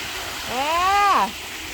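A waterfall gives a steady broadband rush of falling water, with a single voice call rising briefly over it.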